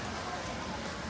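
Rain falling at Epcot during an evening storm, a soft, even hiss of drops filling the short stretch with steady broadband noise and no distinct voices.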